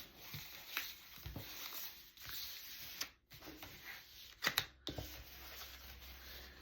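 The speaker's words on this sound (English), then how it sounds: "And shuffles. That's how she shuffles." Soft, scattered patters and light taps of cards being shuffled across a table, irregular and quiet, with brief pauses in between.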